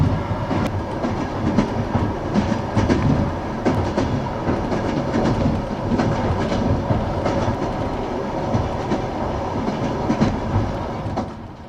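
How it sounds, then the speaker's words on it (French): A passenger train runs steadily at about 80 km/h through semi-desert steppe in Kazakhstan, with wheels clicking rhythmically over rail joints under a continuous rumbling carriage hum. "Notre rame file vers le sud-est à environ 80 km/h dans un paysage semi-désertique."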